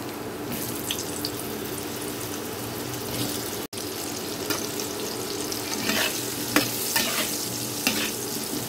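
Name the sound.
frying potatoes in oil with salt and turmeric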